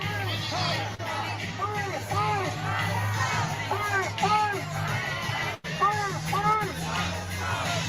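Protest crowd in the UK cheering and chanting, with repeated rhythmic yells rising in waves over a steady hum, loud and fairly close, with voices shouting throughout.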